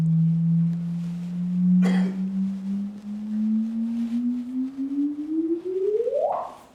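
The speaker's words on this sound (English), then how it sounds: "so what you're hearing there is this is actually the gravitational wave signal" Gravitational wave signal from colliding neutron stars converted to sound: a steady low tone that slowly climbs in pitch and speeds up into a final upward chirp, with a brief click partway through, alone over faint hiss.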